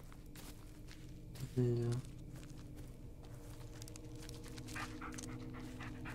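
Dog footsteps and panting in the Blair Witch video game, a soft patter under game ambience with a short tonal sound partway through and a brief word spoken.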